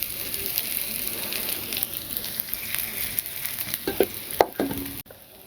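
Bora fritters frying in a hot pan on a village stove, a steady close sizzle and crackle with brief louder pops near the end before it cuts off.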